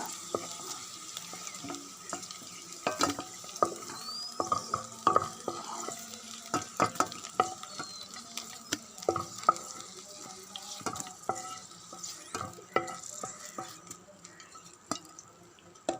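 Okra sautéed and stirred in a pan for a traditional masala curry, with repeated scraping stir strokes over a soft, steady sizzle, close and fairly quiet, with no talking.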